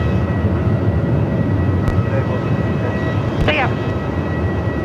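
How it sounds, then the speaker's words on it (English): An aircraft air starter runs somewhere at Melbourne Airport in strong wind, a constant distant roar with a faint steady whine beneath it; a person briefly speaks partway through. "Sounds like an air starter somewhere. Can you hear that? It's definitely an air starter."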